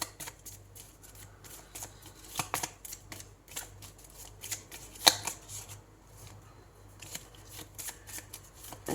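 Tarot cards are shuffled by hand in a steady stream of soft riffling and papery slaps, with one sharper snap partway through.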